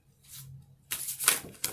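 Tarot cards riffle and slap together in a few quick bursts, close and crisp, with a softer rustle before the main shuffle.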